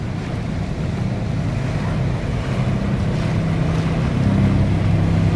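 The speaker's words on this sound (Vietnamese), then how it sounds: "Xe buýt lội nước." A city bus ploughing through deep floodwater on a flooded Saigon street during heavy rain and high tide, a steady loud rumble of engine and churning, sloshing water that swells slightly toward the end.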